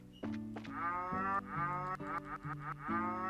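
Cows lowing in a cow paddock in the video game Trails in the Sky FC, a string of long, overlapping moos, clear and fairly close, with no voices.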